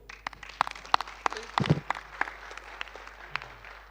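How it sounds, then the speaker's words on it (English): Audience applause at an economic summit session, with sparse individual claps ringing out at first, then a brief rustle, then more scattered claps that taper off. "you have deserved a great applause"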